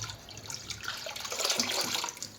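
Water poured from a mug into a home aquarium, a steady splashing gush that swells midway and runs continuously, close to the microphone, with no talk.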